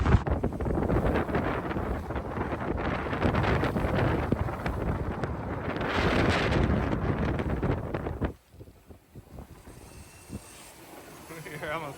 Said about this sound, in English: Big gust here.